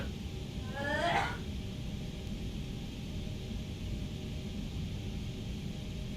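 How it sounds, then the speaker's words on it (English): A single short sneeze sounds faintly from a distance, muffled as if from another room, over a steady background hum. "Heard my wifey sneeze downstairs."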